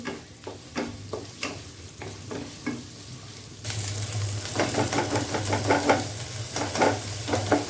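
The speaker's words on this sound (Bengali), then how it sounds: "এই পেঁয়াজের মধ্যেই পোলার চাল দিয়ে ভেজে নিব" Pulao rice frying in a pan with onion, cardamom and cinnamon, giving a steady close sizzle with repeated stirring scrapes that grow louder and busier partway through, with no talking.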